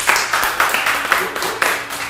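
Audience applause for a DJ at a local DJ meetup in Austin, steady clapping with a few sharper bursts through two seconds, fairly close and moderately loud, with voices mixed underneath.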